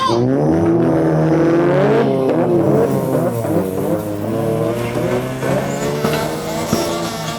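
Loud revving engines race close by as a mini truck drag races a van at a car festival, their pitch climbing and shifting as they accelerate, with a brief tire squeal in the mix.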